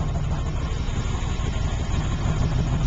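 A 1978 Pontiac Trans Am with aftermarket exhaust idles close by, a steady low rumble with slight pulsing throughout.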